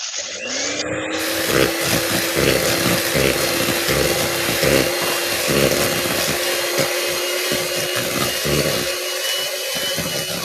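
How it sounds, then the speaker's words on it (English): A whisk runs steadily through batter until it is smooth, giving a continuous motor-like whir with a rhythmic rattling churn. It is close and fairly loud for the whole stretch, with no talking. "So we're going to whisk this now till there's no lumps or anything."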